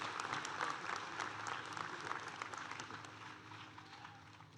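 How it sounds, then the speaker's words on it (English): Sustained applause from a large audience at a University of Delaware commencement, honoring the honorary degree recipients, a dense wash of clapping that stays steady and slowly tapers off toward the end. "Please join me again in a round of applause"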